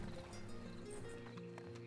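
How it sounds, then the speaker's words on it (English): Horse hooves clip-clopping in the western roleplay game RedM, a faint rhythmic plodding of a nearby horse mixed with a soft whinny under low background sound. "I keep hearing a horse around."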